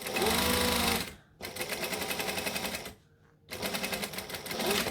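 A sewing machine runs in three close bursts with two brief pauses, its rapid needle chatter stitching and backstitching a bag gusset.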